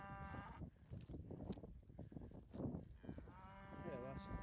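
Cattle on a farm, part of a herd of cows, give several mooing calls at a moderate distance over outdoor background noise, with brief indistinct voices nearby.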